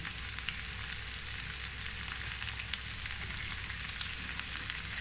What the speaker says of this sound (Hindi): अच्छे तरीके से मिक्स करके इनको फ्राई करेंगे।